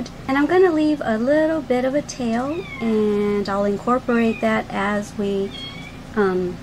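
A pet cat meows from a bathroom in repeated drawn-out cries, woven through and partly under steady close talking during a crochet session.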